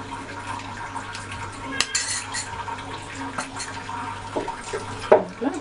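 A spoon tinks against a cast-iron paniyaram pan while a couple of drops of oil go into each cup, giving soft, scattered metallic clinks close by over a low kitchen hum.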